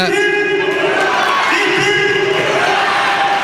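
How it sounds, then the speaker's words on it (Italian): A crowd at a boxing event between Sardinian and Campanian boxers roars and cheers in a continuous, loud din, with shouts and applause blending into a steady wall of sound. "l'applauso, l'incoraggiamento dei pugili sardi verso quelli campani"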